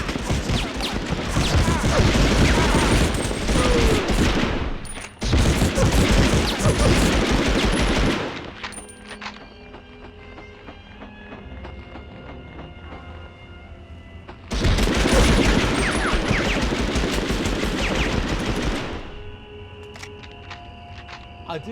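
Enemy soldiers' gunfire in the Medal of Honor Underground video game: two long bursts of loud, continuous automatic fire, a brief break, a quieter lull with scattered game sounds, then another sustained volley.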